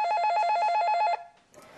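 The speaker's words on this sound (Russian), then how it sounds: "И, наконец, поступает первый звонок." A telephone bell ringing, one loud trilling ring of rapid pulses lasting just over a second, then cut off into quiet room noise.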